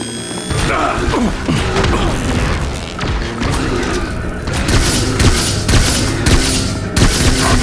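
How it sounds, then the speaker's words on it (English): Grenade blast and rapid gunfire in The Bureau: XCOM Declassified video game, a loud, dense barrage of booming impacts and crackling shots that goes on without a break. "Grenade!"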